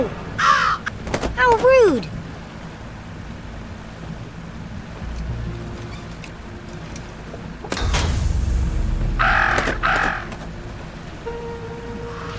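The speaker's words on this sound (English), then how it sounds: "talk about a murder of crows." Crows caw in the Jenny LeClue video game, harsh repeated calls in two bursts, early and again near the end, over a steady surf-like wash and a low rumble, with a voice speaking between them.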